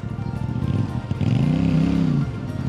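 Close motorcycle engine idling roughly, then revving up and rising in a sustained swell before dropping back, as a rider on a road trip in Corsica tries to skid the bike.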